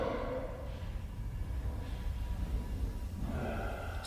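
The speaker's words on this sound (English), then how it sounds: "That was some deep breathing." Deep, heavy breathing, slow loud breaths in and out with a rough snorting edge, close up over a low background rumble.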